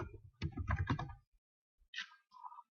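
Quick bursts of computer keyboard typing heard up close, with a short flurry of keystrokes followed by a few isolated clicks and taps in an otherwise quiet room.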